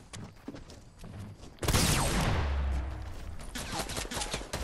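Gunfire erupts in a Fortnite match, a sudden loud burst of shots followed by a decaying rumble and scattered further shots nearby, after a quieter stretch of game sounds.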